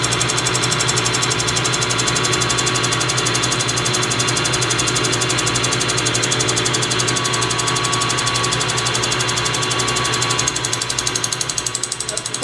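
A metal lathe machining a sawn-off metal part down in a home workshop, a steady loud motor hum with a continuous rumbling, whirring drone that holds throughout, with no talk over it.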